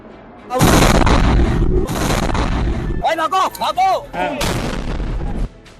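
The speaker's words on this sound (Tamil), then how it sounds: "அந்த கார் மெதுவாக நகர்ந்து சிக்னலில் நிற்கும்போது 6:52 மணிக்கு வெடித்து சிதறியுள்ளது" A car blast in Delhi while stopped at a traffic signal: a loud, heavy explosion with a sustained roaring burst, followed by crackling and popping, then another loud rumbling surge before it cuts off.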